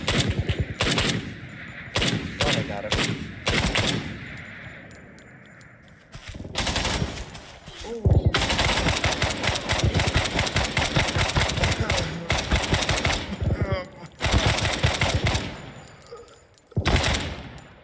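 Gunfire in the co-op shooter game Operator: bursts of rapid automatic fire and single shots cracking loudly in clusters, with brief pauses between volleys and a long sustained barrage midway.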